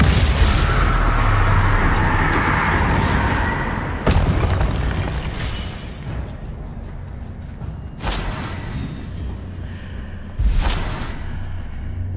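Confringo explosion spells burst in the Hogwarts Legacy video game, loud booming blasts with sharp attacks around four, eight and ten seconds over a dense rumbling bed, no voices.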